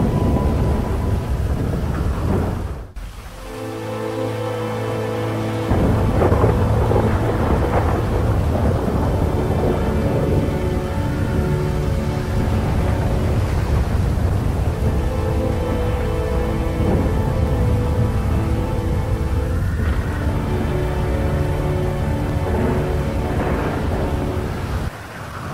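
A thunderstorm with heavy rain in GTA 5: a sharp thunder crack early on, then a dense, loud, constant downpour with rolling rumbles throughout.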